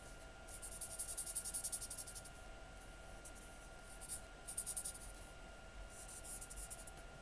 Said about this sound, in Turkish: Dış hattını böyle bir yeşille boyuyorum.